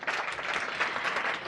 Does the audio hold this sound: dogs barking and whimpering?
no